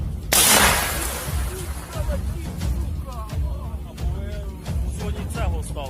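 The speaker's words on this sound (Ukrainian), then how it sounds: "Постріл." A sharp, loud gunshot bang at the start with a broadband burst, followed by a noisy outdoor rumble and scattered voices, during battle in Bakhmut.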